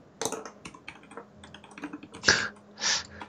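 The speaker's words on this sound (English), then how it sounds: "Typing furiously." Fast, uneven keystrokes clatter on a computer keyboard close by, with a couple of heavier clacks toward the end, like the space bar or enter key being struck.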